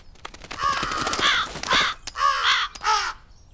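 Cartoon crows caw in a countryside field, several harsh, close calls arriving in separate bursts with short gaps between them and no talking.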